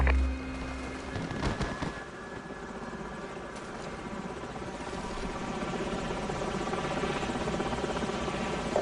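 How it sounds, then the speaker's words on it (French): A video game enemy helicopter's rotor thrum and engine roar in Modern Warfare (2007), loud and sustained, with a brief bang near the start. "Hélicoptère ennemi."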